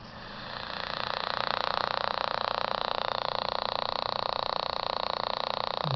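A homemade stick pulse motor with a coil runs steadily, giving a continuous close buzzing, creaking drone that swells in the first second and then holds even throughout, with no talking.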